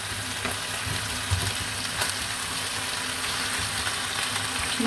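Meat sizzles and crackles steadily in a small hot pan, with faint pops and stirring throughout and no voices.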